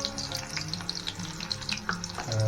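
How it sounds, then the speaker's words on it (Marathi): Garlic and bay leaf crackle in hot oil in a steel pot for a chicken sukka dish, a steady close sizzle with scattered pops and a low hum beneath, no talking. "लसूण स्टीलच्या भांड्यात एक वेगळाच आवाज येतो लसूण वगैरे तडतडते ना"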